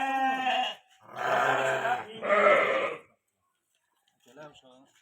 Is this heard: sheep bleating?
yes